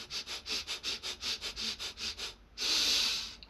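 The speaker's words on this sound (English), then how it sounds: "Deep, effectual breathing, not just enough to stay alive." Repeated quick nasal sniffs in a steady rhythm, about a dozen short inhalations in a row, followed by one longer, louder breath drawn in through the nose, close and with no talking.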